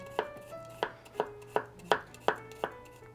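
Seven sharp knife chops on a cutting board as an onion near its core is cut into fine pieces, crisp close thuds spaced about half a second apart over quiet background.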